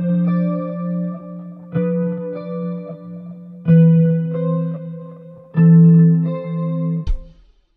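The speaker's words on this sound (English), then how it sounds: "So in a 2-5-1 context, it can sound something like this." Guitar chord shapes move through a 2-5-1 progression, with five or six legato chords swelling in one after another and sustaining under chorus and reverb, clean and alone before a final muted thump.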